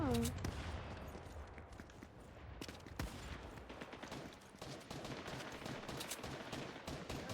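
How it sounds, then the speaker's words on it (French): Bombardment gunfire in a first-person shooter video game, rapid bursts of shots and booming impacts in quick succession at low level, with a voice talking over them. "En face, ils se prennent un bombardement là."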